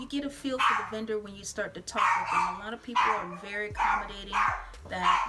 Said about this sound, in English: Please excuse the noise, my dog, if you hear him.